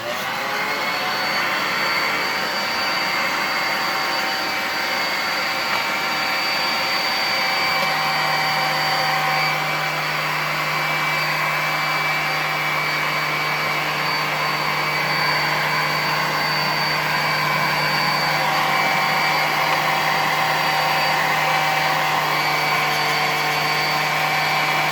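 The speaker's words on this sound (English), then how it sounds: "Blow dryer on high, a mix of hot and cold." A blow dryer on high setting, switching between hot and cold air, runs continuously on a beard, a loud steady whine and rush of air with a lower hum entering partway through.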